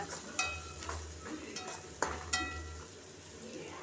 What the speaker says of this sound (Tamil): கொஞ்சம் எண்ணெய் ஊற்றி வெங்காயம் போட்டு தாளிச்சுக்கோங்க